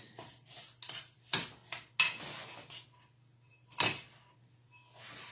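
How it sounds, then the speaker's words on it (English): A spoon stirs melted butter through a cabbage casserole, giving several sharp scrapes and clinks against the dish between quieter rubbing, close and clear with no talk. "We're just going to stir that up."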